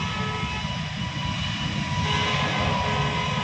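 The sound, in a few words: airplane taking off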